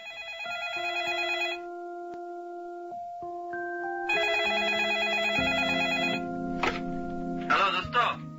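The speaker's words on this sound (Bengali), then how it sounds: "অস্থির হয়ে শেষমেশ সে ফোন করল তুষারকে।" A telephone rings out while someone calls a friend in a Bengali audio drama, with repeated electronic tones over a quiet background and a few soft knocks.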